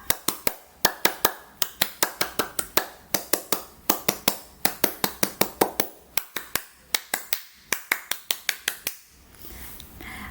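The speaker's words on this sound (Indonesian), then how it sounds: "3 kali tepuk pramuka." A group of scouts performs the rhythmic tepuk pramuka clap three times in a row, each round a fast, crisp pattern of sharp hand claps with short pauses between rounds.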